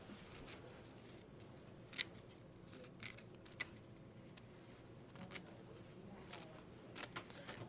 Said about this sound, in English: I'll go ahead and trim this bobbin down.